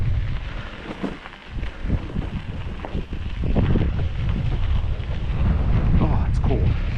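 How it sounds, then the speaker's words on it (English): Strong wind blows outdoors in open ground on a cold day, buffeting the microphone with a loud, continuous rumbling roar that swells into heavier gusts partway through. "you get out in the open and that wind"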